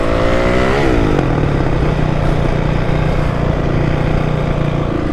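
A motorcycle engine roars loud and close during a coaster wheelie in stunt riding. The pitch sweeps briefly near the start, then holds a steady, heavy drone throughout.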